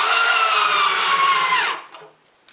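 A power drill drives a pocket hole screw through a melamine outfeed cart top into its side, a loud steady whine that rises in pitch and then cuts off, followed by a few faint clicks.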